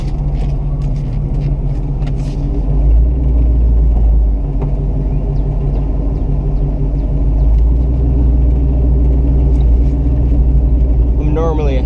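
A 1969 Buick Special Deluxe idles at a steady low rumble, its engine close and continuous before it is shifted into reverse, with a voice talking over the drone.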